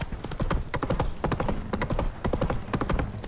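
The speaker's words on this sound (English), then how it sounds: "Horse. Come on, Roach." Hooves clip-clop steadily and fairly loud as the horse Roach trots in The Witcher 3 video game, a brisk continuous rhythm with a faint hint of in-game voice beneath.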